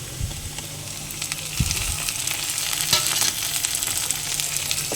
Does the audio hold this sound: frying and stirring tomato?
yes